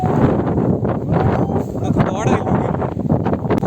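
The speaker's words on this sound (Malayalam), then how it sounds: "ഇടുക്കത്തെ കാറ്റാണ് കാറ്റ് വരുമ്പോൾ ഇരിക്കണം അല്ലെങ്കിൽ പറന്നു പോകും" Strong gusts of wind buffeting the microphone in loud, rumbling bursts on a hilltop at Banasura, Wayanad, with a voice speaking underneath.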